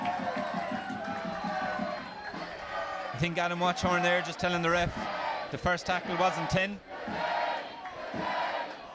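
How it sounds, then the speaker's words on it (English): Spectators at a Leinster Schools Senior Cup rugby match involving Newbridge College roar and shout, a loud, swelling crowd noise heard from the stands beneath steady commentary talk. "You can hear the crowd now really coming into it."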